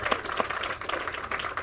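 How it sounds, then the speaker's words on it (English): Audience applause for Councilmember Charles Allen at an outdoor ribbon-cutting event at Phyllis Wheatley Rec, a steady patter of clapping from a crowd, moderately loud and continuous for a short burst. "Give him a big round of applause."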